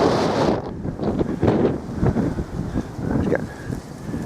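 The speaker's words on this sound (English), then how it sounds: "It's getting very windy now" Strong wind outdoors at an ancient stone circle in hilly country, buffeting the microphone with loud, uneven rumbling gusts that come and go with no pause.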